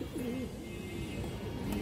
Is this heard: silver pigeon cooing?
yes